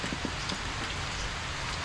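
Steady rain falls outdoors as a dense, even hiss that holds at a constant level, close and unbroken, with no voices.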